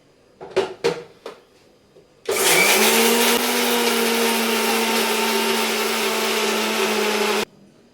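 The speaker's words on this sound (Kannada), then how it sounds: "ಇವು ಹಾಕಿರೋ ಐಟಮ್ನ ಒಂದ್ಸತಿ ಮಿಕ್ಸಿ ಜಾರಿಗೆ ಹಾಕಿ" A kitchen mixer grinder jar blends coconut masala for a chicken dish, a steady loud whirring drone running about five seconds after a few soft knocks and handling sounds, then cutting off abruptly.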